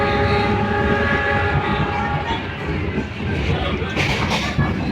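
A Jenggala commuter train runs on the rails between Sidoarjo, Tulangan and Tarik in East Java. A tonal whine opens over steady rolling rumble, then the rhythmic clatter and hiss of the wheels carry on, loud and close.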